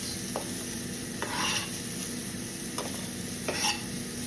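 Steady frying sizzle in a pan, with a few brief clinks of a utensil stirring at intervals.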